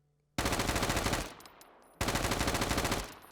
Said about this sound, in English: So let's see what this looks like when you fire it.